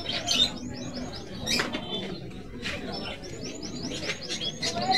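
Caged canaries and other small pet birds at an open-air bird market, Feira do Cordeiro, fill the air with overlapping bright chirps and quick whistled trills, close and continuous over a busy background murmur.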